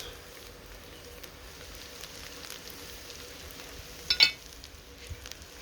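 Onions for chana masala sizzle over ferociously high heat in an outdoor pan, a steady low crackle with a brief louder spit of clatter near the end, no talking.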